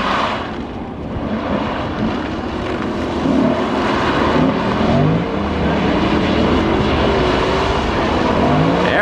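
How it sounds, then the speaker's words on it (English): A Lexus RC F drifting on a track gives a sustained, loud engine roar mixed with tyre noise, steady throughout and slightly distant, with no voices. "Here's a Lexus RCF out there trying to drift."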